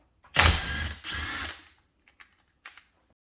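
Bolts on a TH400 automatic transmission being run out with a power tool: two close, loud bursts of rapid ratcheting mechanical whirring, followed by a few faint, brief clicks after the tool stops.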